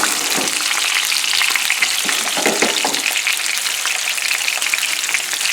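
Salmon fries in oregano oil in a greasy pan, giving a close, continuous sizzle with scattered crackles and spits throughout, no voices.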